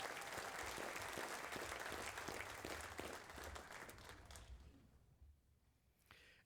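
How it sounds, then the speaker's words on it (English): A hall of fame audience applauds the honored coaches, a dense burst of clapping that holds steady and then tapers off over the last couple of seconds. "Please join me in giving these fantastic coaches another well-deserved round of applause."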